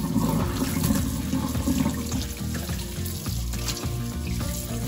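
Fish for Jamaican escovich running under a kitchen tap, washed of lime juice in a sink, with a loud, continuous splash of water and hand movement and no talk.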